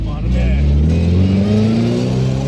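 A race car with a big turbocharged engine accelerates, its loud, close engine note climbing steadily in pitch as it pulls, with no one talking over it.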